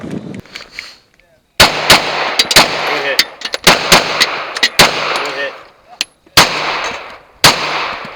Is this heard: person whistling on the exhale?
no